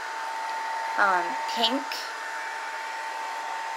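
A hair dryer blows steadily on a poured paint artwork, a constant whirring hum running through the clip while a person speaks briefly.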